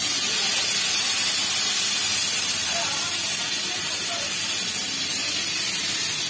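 Tomatoes hit hot oil in a pan and fry with a loud, steady, broad sizzle and hiss that holds evenly throughout, with a voice faintly under it.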